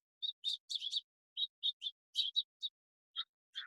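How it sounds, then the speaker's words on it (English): A string of short, high chirps and tweets from finches, quick bursts in irregular clusters with brief pauses, clear and fairly close, no talking. "Our finches are notorious for being noisy."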